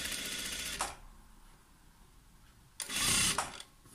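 Two short bursts of a domestic sewing machine stitching bias binding onto a neckline after overlock seams, the first under a second, the second louder and longer, with a quiet pause between.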